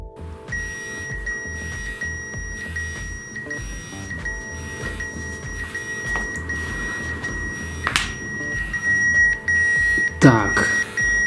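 A switched-off Siemens A50 mobile phone sounds its alarm: steady repeating electronic beeps pulse throughout in a regular rhythm over a background hum, with a few sharper clicks and rustles near the end.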